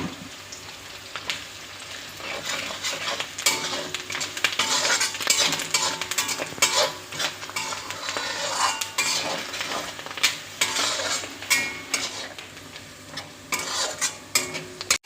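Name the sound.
onions frying and being stirred in a pan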